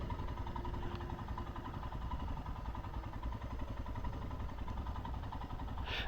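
A Royal Enfield Himalayan motorcycle idles steadily nearby, a continuous low, even engine chug with a faint mechanical clatter and no one speaking.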